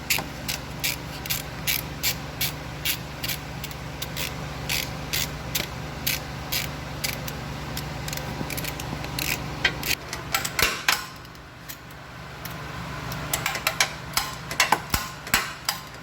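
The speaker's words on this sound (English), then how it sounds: "So we're gonna remove those two bolts, those three bolts, the one up there and the two bottom one, to take the alternator out." Rapid ratchet clicking in repeated bursts as bolts are loosened on the alternator of a 2009 Dodge, close and sharp, broken by a short pause before the clicking resumes.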